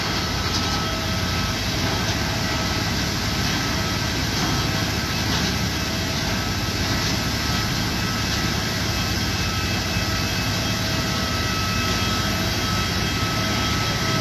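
A Malaysia Airlines A330-200 wide-body airliner sits at the gate while a loud, steady roar of engine or auxiliary power noise runs unbroken throughout, with no voices.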